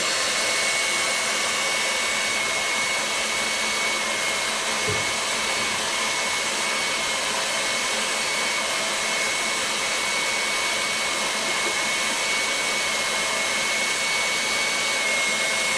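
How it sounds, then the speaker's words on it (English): An electric mixer running at high speed beats egg whites until foamy, giving a steady, loud, unbroken whirring drone for the whole stretch with no talking. "Beat until foamy. Egg whites is double in size."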